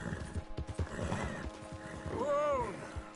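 A horse whinnies in the Red Dead Redemption 2 video game, a rising-then-falling neigh near the end that follows a stretch of muffled hoof clatter and low game noise.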